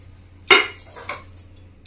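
A metal lid comes off a cooking pot during village-style Bangladeshi kalbaush fish curry preparation: one sharp, bright clank, then a softer rattle and a faint clink, close by in a quiet kitchen with a low hum.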